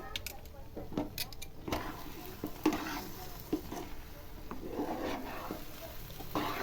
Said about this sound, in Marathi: चांगलं व्यवस्थित परत हलवून घ्यायचं.